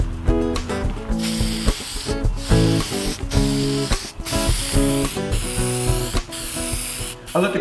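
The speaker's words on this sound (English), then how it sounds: "I'm going to bring the board outside and give it a thin clear coat." Short hissing aerosol bursts lay a thin clear coat onto a painted skateboard outdoors. The bursts repeat close by against a tonal, music-like background.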